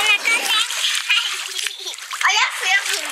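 Water splashes and sloshes steadily while children talk and call out close by.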